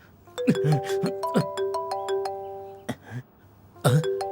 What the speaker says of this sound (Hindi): अब ये फोन क्यों कर रहा है?